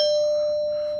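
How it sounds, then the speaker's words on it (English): A rear doorbell chime, wired to a transformer alongside a Nest Hello, rings a single clear, loud tone that sustains and slowly fades with no talk. "I just want to show you the rear doorbell here"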